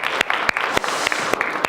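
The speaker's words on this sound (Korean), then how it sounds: "오늘 이 자리에 가운데 불러주신 하나님께 영광의 박수 올려드리겠습니다" Inside a church, the congregation breaks into loud, steady applause, with distinct sharp claps standing out over a thick layer of hand clapping.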